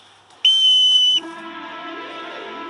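One sharp, piercing whistle blast lasting under a second, loud and close, followed by a softer lingering hum.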